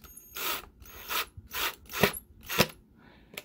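A screw is driven snug during an IKEA NORRFLY lighting install, heard as five rapid rasping, ratcheting bursts close by with brief pauses between them and a faint click at the end.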